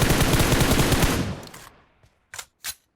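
Automatic gunfire in PUBG Mobile: a loud, rapid burst of shots fades out over about a second and a half, followed by a faint tap and two sharp single shots.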